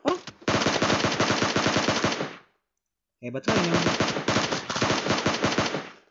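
Rapid pistol gunshots in PUBG Mobile zombie mode ring out in two sustained, loud bursts separated by a short silence, with a brief spoken exclamation between them.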